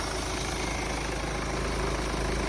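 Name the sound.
car diesel engine idling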